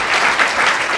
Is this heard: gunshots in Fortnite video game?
no